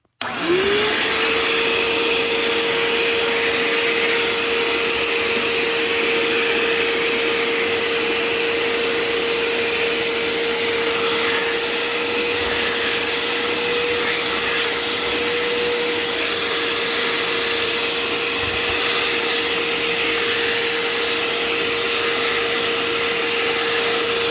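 A Bissell Little Green ProHeat carpet cleaner switches on and runs, a loud, steady motor whine with a constant tone and broadband airflow hiss that holds unchanged for over twenty seconds, close up and alone.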